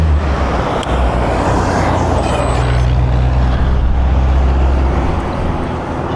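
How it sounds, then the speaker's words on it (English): A loud truck passes close on a Florida highway, a heavy rushing roar of engine and tires that swells and then slowly fades with traffic noise behind it. "I think I'll be able to go after this truck."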